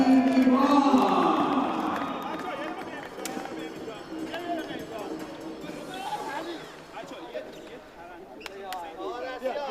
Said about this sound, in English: A good round of applause for our bronze medalist, Team Iran.